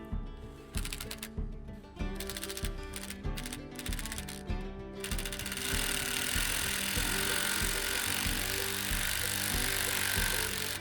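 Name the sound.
tightening bolts on RV awning motor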